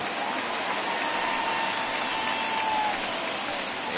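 About 24,000 fans at a Twins versus Tigers baseball game rise to their feet, cheering and clapping in a dense, steady roar of applause that fills the whole stretch.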